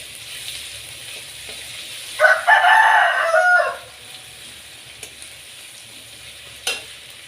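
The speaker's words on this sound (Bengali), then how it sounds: "দেব রসুন বাটা, ভালোভাবে নাড়তে থাকবো।" Garlic paste is stirred in a pan for a fish curry, with a brief louder burst of sizzling and stirring in the middle above a quiet background of faint low hum and a couple of short clicks.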